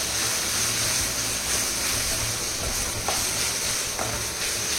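Ginger garlic paste and curry leaves fry in sesame oil for a suvarotti fry, making a loud, dense, unbroken sizzle up close with faint stirring scrapes mixed in.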